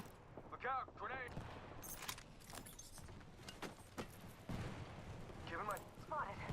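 Video game gunfire crackles in quick shot bursts alongside explosions and chaotic battle noise, mixed under game voice lines throughout.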